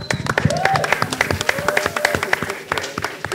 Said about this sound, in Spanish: Un aplausote.